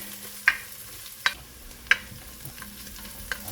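Onion and garlic fry quietly in a pan, a soft low sizzle broken by four sharp stirring clinks of a utensil against the pan.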